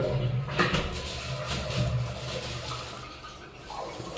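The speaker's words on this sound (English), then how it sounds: "It's a flushing working toilet." A working toilet in a newly fitted bathroom of a beach house under construction in the Philippines flushes with a steady rushing wash of water, close and continuous throughout, without speech.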